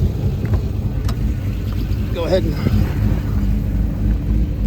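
A 2002 Pontiac Trans Am WS6 engine idles with a steady low rumble close by, wind buffeting the microphone and someone speaking briefly over it.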